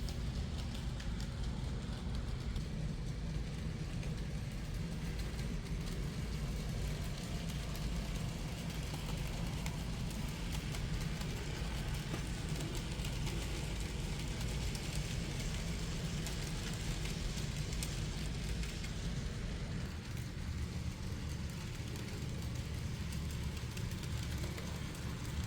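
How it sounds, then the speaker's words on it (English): An N scale Black 5 model locomotive pulling a rake of wagons with a brake van at the end, giving a steady, faint whirring rumble of small wheels and motor that runs unbroken throughout. "We've got our Black 5 pulling a very nice rake of wagons, and being proudly brought up at the end with the new brake van we just built."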